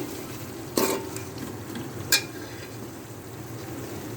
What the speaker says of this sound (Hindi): प्याज को बहुत ज़्यादा ब्राउन नहीं करना है, सिर्फ मुझे हल्का सा फ्राई करना है